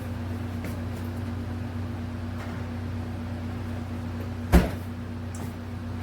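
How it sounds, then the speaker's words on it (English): An oven door in a home kitchen closes once with a sharp thump as a coconut pie goes in, set against a constant low hum of appliance noise. "I'm gonna go ahead and put it in the oven."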